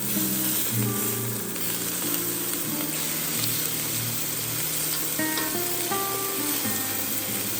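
Beef pieces browning in a Dutch oven give a steady, dense sizzle throughout, close and even, with soft background music tones layered over the frying.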